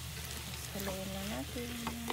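Chicken fries in a sweet sauce with a close, steady sizzle as it is stirred, and a brief wavering tonal hum rises over it midway.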